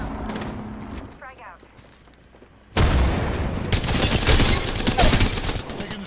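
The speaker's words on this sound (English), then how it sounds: "Calling the airstrike." Airstrike bombardment from Gibraltar in the battle royale shooter Apex Legends: after a quieter stretch with a voice, a sudden loud roar of sustained explosions and gunfire sets in and keeps pounding to the end.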